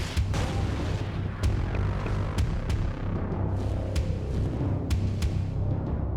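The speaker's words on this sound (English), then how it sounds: "New and improved nukes deliver the final solution." Nuclear missile detonation in Command & Conquer Red Alert 2, a dense, sustained rumbling boom with a steady low roar and scattered sharp crackling blasts throughout.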